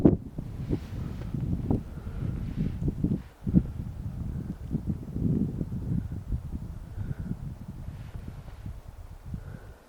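Gusty wind buffeting the microphone at the uppermost Royce Lake in the mountains, low rumbling bursts that rise and fall irregularly, with no talking.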